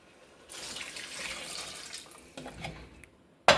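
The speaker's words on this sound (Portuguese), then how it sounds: "Vou colocar água." Water pours steadily into a pot for a meat and vegetable soup, a soft rushing stream lasting a few seconds, ending with a sharp clank of the container close by.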